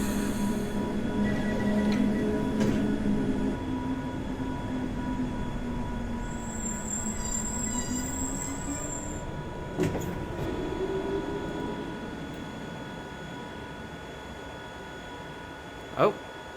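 A Glasgow Subway 1980 Stock train in a game runs steadily with a continuous rumble, wheel squeal bending in pitch, a high whine partway through and sharp clunks near the end.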